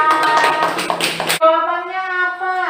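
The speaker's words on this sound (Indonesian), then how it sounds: "tepuk tangan buat temennya" A classroom bursts into a short round of applause for a classmate, dense and close for about a second and a half, then cuts to sustained voiced tones.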